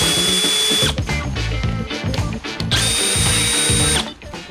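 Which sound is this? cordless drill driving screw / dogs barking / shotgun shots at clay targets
cordless drill driving screw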